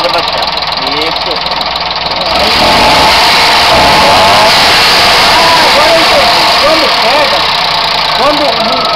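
Motorcycle engine fitted with an adapted carburetor, running steadily close by with a broadband hum that rises as it is revved, while people talk over it throughout.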